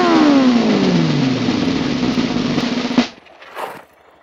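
A new motorcycle's engine revs loudly and close up, its pitch sliding downward as the revs fall, then cuts off abruptly, leaving a quieter tail of fainter noise.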